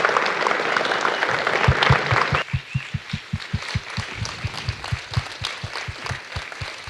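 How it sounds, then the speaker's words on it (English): An audience claps for two doctors at a diabetes and kidney disease presentation, a dense burst of applause that thins out and continues as steady, rhythmic clapping. "can we please have a round of applause for these wonderful doctors?"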